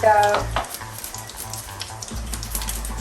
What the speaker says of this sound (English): You can see they're already spluttering